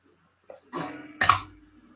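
Two harsh coughs close by, the second louder, after a short throat sound.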